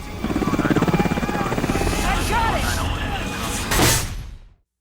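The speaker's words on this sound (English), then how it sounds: "helicopter is flying over Afghanistan" A helicopter flying over Afghanistan makes a loud, rhythmic rotor chop that pulses steadily, then swells in a brief burst before cutting off abruptly.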